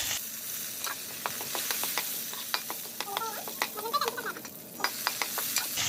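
Urad dal, chana dal and curry leaves fry in hot oil for tempering, giving a steady sizzle. Sharp crackles and pops break through it, with a few scraping stirs near the middle.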